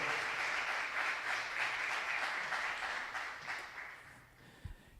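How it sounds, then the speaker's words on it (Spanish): Church congregation applauding the Lord during an Easter resurrection service: sustained crowd clapping that fades over the last second, ending with a single low thump. "dale un aplauso al Señor"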